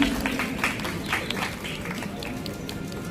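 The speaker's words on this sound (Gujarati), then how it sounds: "તાળીઓના ગણગણાથી આપણે પણ એમનું સન્માન વધાવીશું" A crowd at a community felicitation gathering in a hall claps together, a busy patter of many hands that is fairly loud at first and then settles to a steady level.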